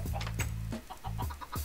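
Chickens cluck in a series of short, close, clucking bursts within the video game Minecraft, with brief gaps between calls and no speech.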